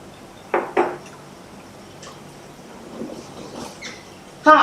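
Cooking pan being stirred and scraped after a splash of water is added to loosen stuck bits from the bottom, with a few sharp metallic knocks and clatters, then quieter scraping and a final louder clink.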